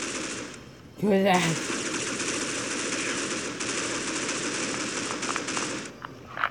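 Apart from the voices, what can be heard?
AK rifle gunfire in Critical Ops video game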